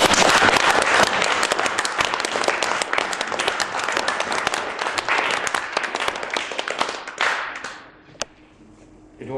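Audience applause at a live poetry night, dense clapping that holds steady for about seven seconds and then fades out, leaving a quiet room with a single sharp knock.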